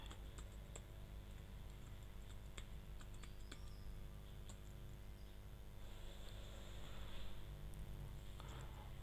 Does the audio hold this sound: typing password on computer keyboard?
yes